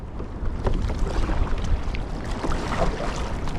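Kayak paddling on open sea along a remote coastline, steady close splashes and water swishing against the hull with wind buffeting the microphone, continuous and fairly loud.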